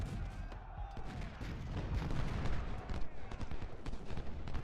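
Artillery battery firing canister in the Civil War strategy game Ultimate General: Civil War, a dense distant rumble of cannon and musket volleys rolling continuously under battlefield din.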